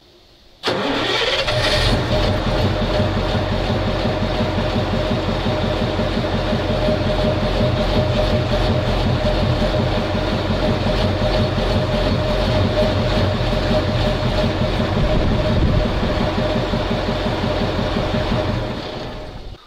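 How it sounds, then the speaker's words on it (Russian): ZIL Submariner truck engine cranks briefly and catches, then settles into a loud, steady, rumbling idle close by that runs for many seconds before cutting off near the end. "И попробуем запустить мотор,"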